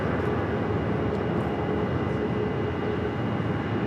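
Breeze Airways jet taking off from runway 7 left at Phoenix Sky Harbor, a steady broad engine roar held at constant loudness, distant and continuous.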